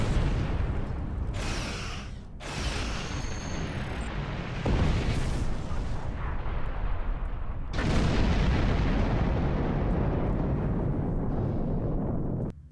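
Ship weapons in a video game fire on Gorn ships, producing heavy booming blasts and rumbling explosions in loud surges with short gaps between volleys.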